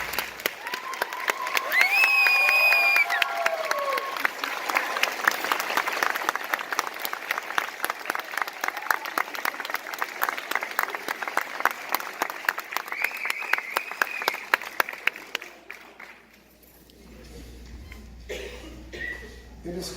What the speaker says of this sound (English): you give them a richly deserved round of applause